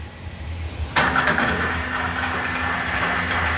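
A Leblonde Makino 15 x 54 lathe with an L-1 spindle engages with a sudden clunk, then its spindle runs at 132 RPM with a steady mechanical hum and faint whine, fairly close and without talk.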